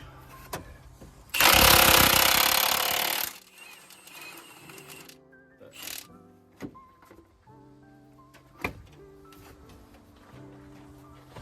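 A Nutbuster 5000 impact wrench working a bolt on a BMW N46 engine during a timing chain job: one loud, dense two-second burst of hammering, followed by quieter clicks, knocks and tool handling nearby.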